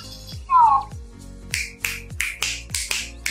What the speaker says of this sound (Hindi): तो हम मार लेते हैं दो बार चुटकी